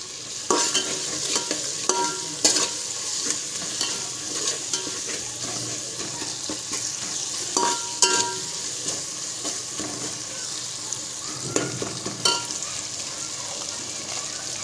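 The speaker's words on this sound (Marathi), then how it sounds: "मस्तपैकी आता मसाले सगळे फ्राय झालेत सगळे टाकून घेतले तेलामध्ये" Onion, tomato, garam masala, bay leaf and ginger-garlic paste frying in oil for chicken biryani, a constant sizzle broken by repeated scraping clicks of a spoon stirring against the pot.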